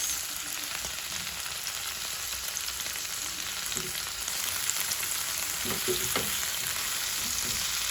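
Chicken cubes sautéing in a pan give a loud, continuous hiss of frying, with a few scrapes of stirring near the end.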